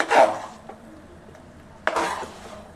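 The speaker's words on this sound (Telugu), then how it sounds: "నల్లగా కలుపుకోవాలండి, వంకాయలు ఇడిపోతాయి" Eggplant curry with raw prawns being stirred in a pan, with two scraping, sizzling stirs, a loud one at the start and another near the end, and quiet frying in between.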